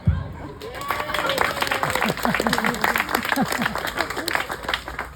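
A group claps together at a Samoan outdoor cooking gathering where men prepare a dish with coconut milk, sweet potato and green banana, the applause steady over several seconds with voices talking over it.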